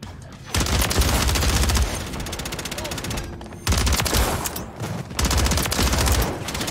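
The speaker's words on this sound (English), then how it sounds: "I'm shooting now." Rapid automatic gunfire in a video game plays in three long, loud bursts separated by brief gaps, each a dense, even rattle of shots.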